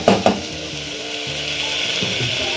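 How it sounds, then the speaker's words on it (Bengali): Spices and chicken sizzling steadily in a hot pan while cooking chicken rajma curry, with a couple of brief stirring clatters at the start, then continuous close frying hiss with no talk. "দিয়ে আবার ভালো করে আমাদের মশলার সাথে এটিকে কষিয়ে নেব"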